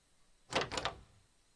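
A door opens with a short rattling clack and latch noise, close and brief, then quiet, a game sound effect.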